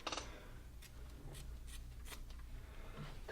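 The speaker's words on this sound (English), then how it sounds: "We're going to use the scissors" Several short, sharp snipping sounds spaced irregularly, close and fairly quiet, like scissors cutting.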